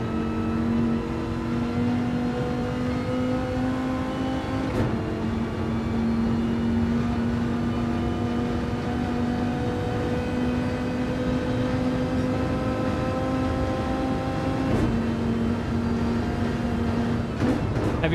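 A race car engine drones steadily at high revs around Road Atlanta in a racing video game, with brief dips at gear changes, loud and close throughout with no talking.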